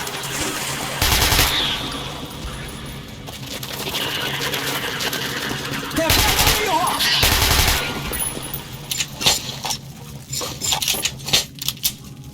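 Bursts of automatic gunfire in the game Metro Last Light, loud rapid volleys in a few separate clusters with clattering impacts and tail-off shots, mixed with game ambience and brief voices.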